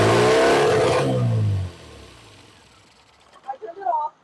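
An MGB engine with no throttle cable fitted cranks and catches with a loud, rough roar that drops away after about a second and a half to a low idle, then short faint bursts follow near the end.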